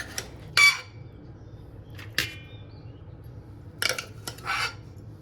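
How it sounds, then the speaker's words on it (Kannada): Cooked rice for mango chitranna is scooped from a pot onto a plate, giving a few short, close scrapes and clinks of a spoon against the dishes, separated by quiet gaps, with no talking. "ಇದು ಅನ್ನ ಎಲ್ಲ ಒಂದು ಪ್ಲೇಟಿಗೆ ತೆಗೆದಿಟ್ಕೊಳ್ತಾ ಇದ್ದೀನಿ ರೀ."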